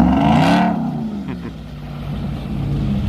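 A Ram TRX pickup truck on an off-road trail revs its engine while crawling, a loud close roar that swells at the start then settles into a rumbling idle and builds again.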